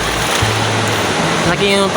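Waves surge and wash steadily along a beach shoreline at rising tide, a loud continuous rush of water close by with a brief swell near the end.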